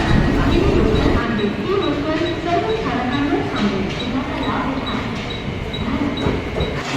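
A moving Mumbai local train bound for Andheri rumbles steadily throughout, a constant low roar with people talking nearby.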